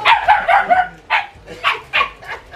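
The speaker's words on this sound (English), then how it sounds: "Doing all that barking." Dogs meeting for the first time bark loudly and close by, about half a dozen excited yapping bursts in quick succession, with no talk.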